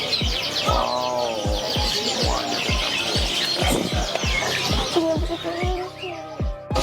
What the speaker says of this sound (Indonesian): burung jalak semua nih